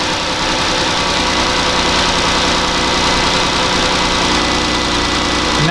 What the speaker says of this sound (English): this time we're going to do it with the engine running